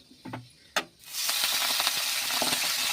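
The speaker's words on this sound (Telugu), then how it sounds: "మెంతాకు వేసుకొని ఫ్రై చేసుకోవాలి" Fenugreek leaves dropped into hot oil in a pan burst into a loud, steady sizzle after a brief clatter, the frying hiss continuing close and unbroken to the end.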